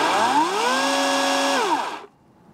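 A Toro Flex Force electric chainsaw revs up, its whine climbing in pitch, holding steady at speed, then winding down and cutting off to near silence, loud and close.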